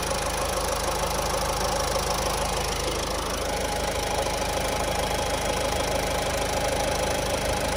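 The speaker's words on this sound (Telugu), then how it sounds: "ఇంజన్ కొంచెం హార్డ్ నాయిస్ వస్తూనే ఉంది" A Ford car engine idling with a hard knocking noise, a dense, continuous mechanical clatter and hum that stays steady and close throughout, with no talking.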